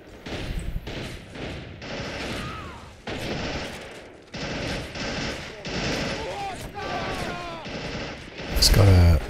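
Submachine gun fire in the World at War strategy game, with dense rattling bursts and repeated volleys of gunfire, a loud blast near the end, and someone commentating over the action.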